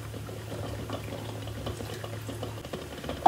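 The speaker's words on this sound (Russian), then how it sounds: "Сейчас я в дрожжам добавлю немного сахара и залью теплой водой." Warm water poured onto yeast and sugar for pastry dough, a soft, steady trickling and bubbling of liquid that grows briefly louder at the very end.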